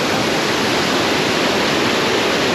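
The Jamjir waterfall on a river roars without a break, a dense, loud wall of rushing, crashing water that stays steady throughout, with no voices.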